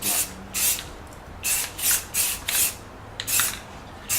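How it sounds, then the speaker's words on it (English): High gloss black spray paint hissing from an aerosol can in short repeated bursts, several sharp sprays separated by brief pauses, close and fairly loud while finishing cosplay bodywork. "So here I am continuing with the high gloss black spray paint"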